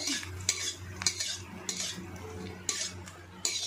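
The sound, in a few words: frying papad (poppadoms) in a pan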